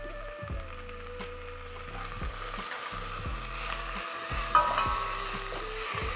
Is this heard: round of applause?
no